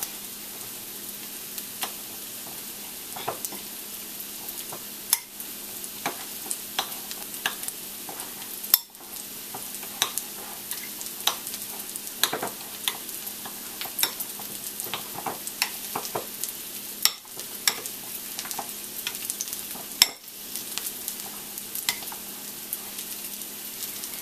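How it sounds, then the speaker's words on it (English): A spoon stirring flour into onions frying in a pan: a continuous sizzle with repeated scraping and clinking strokes against the pan, steady and close throughout. "And take a spoon and mix well."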